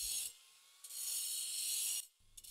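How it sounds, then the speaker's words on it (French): A circular saw slices into stone in short bursts: a loud, steady grinding rasp that runs for about a second, drops away, returns, then cuts off near the end, with no voices. "Une scie circulaire, l'outil idéal pour réaliser facilement et rapidement des coupes et des découpes dans la pierre"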